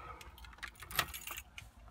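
A bunch of keys jangles close by as the ignition of an older Ford OBS pickup truck is switched on, with a brief metallic rattle and clinks lasting a couple of seconds.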